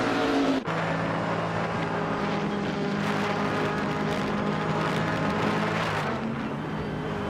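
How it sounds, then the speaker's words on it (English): A 2021 Chevrolet Camaro race car in a racing video game, its engine droning loud and steady with a sustained high whine, close and continuous, with no one talking. "Just Chanette is driving a 2021 Chevrolet Camaro."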